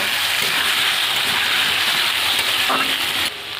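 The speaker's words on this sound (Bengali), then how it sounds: "আলুগুলো আমি লাল করে ভেজে নেব।" Salted, turmeric-seasoned potatoes frying in hot oil give a dense, steady sizzle throughout, easing slightly toward the end, with no talking.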